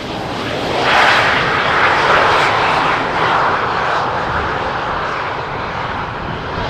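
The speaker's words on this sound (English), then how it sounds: "here an Embraer that doesn't apply the reverse thrust" An Embraer jet lands on runway 18R at Amsterdam Schiphol without reverse thrust, its engine roar swelling loudly around the first second and then easing into a steady, fading whine as it rolls out.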